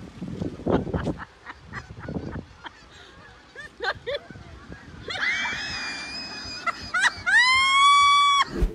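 A flock of birds, likely geese, honks and screeches loudly near the end as a man runs at them, following scattered thumps and scuffling; the calls come in a close, rising burst.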